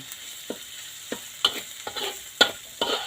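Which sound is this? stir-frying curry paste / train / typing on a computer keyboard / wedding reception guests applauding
stir-frying curry paste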